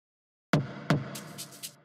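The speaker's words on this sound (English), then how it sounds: "we had these tom sounds, really from my sample pack, simple toms" Simple tom drums from a sample pack for a melodic house track: two punchy, booming hits in quick succession, followed by a few lighter, higher taps that trail off, alone and fairly quiet.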